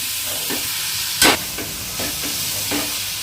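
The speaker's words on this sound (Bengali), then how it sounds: "খুন্তির সাহায্যে, যাতে নারকেল নাড়ুটিতে ভালোভাবে পাক দেওয়া হয়ে যায়" A spatula stirs coconut laddu mixture in a pan over medium heat: a constant close hiss and sizzle with a few scraping strokes, one of them sharp and loud, and no talking.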